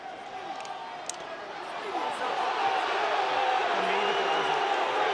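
Rugby fans at a Munster v Connacht match in a stadium, a dense crowd roar that swells and holds loud, booing over a possible offside, with a commentator talking over it.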